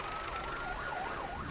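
Emergency sirens at a staged construction-vehicle accident scene in Dubai, a steady wailing tone rising and falling continuously, loud and close.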